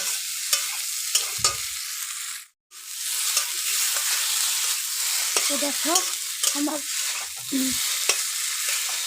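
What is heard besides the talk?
potatoes frying and being stirred in a wok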